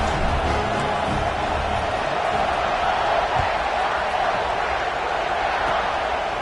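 Stadium crowd roar at a football kickoff in the Madden video game, a steady, loud broadband wash of massed voices that holds evenly throughout with no single voice standing out.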